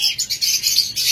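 A pair of green-cheeked conures chatters in rapid, pulsing high chirps, several short bursts in a row, close up and fairly loud.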